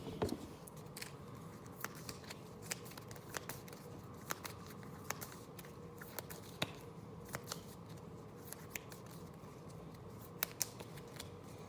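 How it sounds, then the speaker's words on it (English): A deck of game cards for a tabletop wargame is shuffled at close range, with repeated crisp riffles and snaps over a quiet room, irregular bursts spread across several seconds. "oh, I forgot to shuffle."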